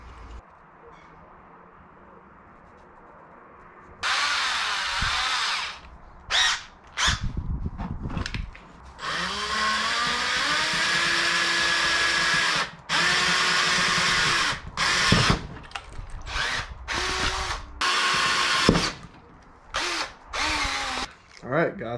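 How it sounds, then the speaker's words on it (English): A power drill whines in several sustained runs, with short stops and restarts, while drilling holes in a mounting plate for a paddle clip on a Hobie Pro Angler 12 kayak. The drill is close and loud, and a voice speaks briefly between runs. "Got the holes drilled."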